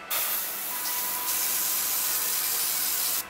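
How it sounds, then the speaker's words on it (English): An airbrush fires a short test blast of pink paint, a loud, steady close hiss of spray lasting about three seconds and cutting off abruptly. "Alright, this is going to airbrush really well."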